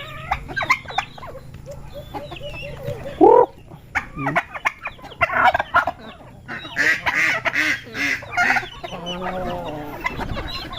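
Busy chatter of newly hatched turkey chicks: many small birds peeping and clucking close by, overlapping in irregular bursts, with an occasional louder squawk.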